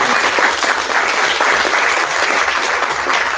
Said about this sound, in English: Please join me in giving a heartfelt round of applause to Sarah Tormey